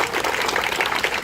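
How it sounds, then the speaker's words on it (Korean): An audience claps for itself at a citizens' committee disbanding ceremony at Gwanghwamun, Seoul: a short, dense burst of many hands clapping together, fairly loud and close. "우리 모두 다 고생하셨다는 의미에서 자축 박수 한번 치시죠."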